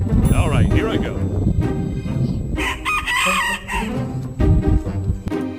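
A rooster crows and clucks in short, loud bursts while comic voices talk over and between the calls, with the crowing standing out in the middle of the stretch.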